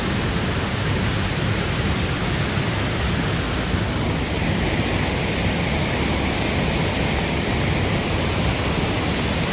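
A mountain waterfall in Uttarakhand roars after a cloudburst of heavy rain, a dense, steady rush of falling water that fills the whole scene without pause, loud and close, with no voices over it.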